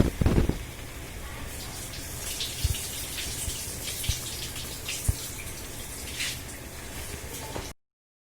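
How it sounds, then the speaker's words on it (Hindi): Macaroni drops into a pot of boiling water, giving a soft splash followed by steady bubbling and hissing water with a few small knocks before it stops abruptly. "पानी हमारा बॉयल हो गया है और इसमें फिर हम अब डाल रहे हैं"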